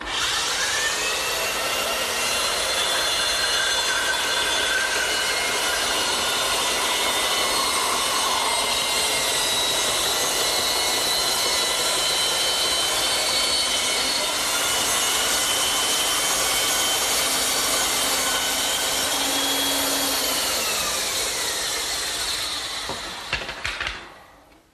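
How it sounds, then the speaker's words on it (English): A saw cuts a wooden tabletop blank into a circle as it spins, a loud continuous whine with shifting pitch that holds steady for the whole stretch before the motor winds down at the end. "then I'll turn the saw on, spin the blank, and I'll get a perfect circle every time."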